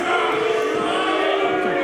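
A wrestling show crowd roars and chants loudly and continuously in an arena, a dense wall of voices with no break.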